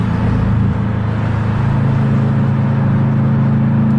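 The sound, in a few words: cars racing on a New York street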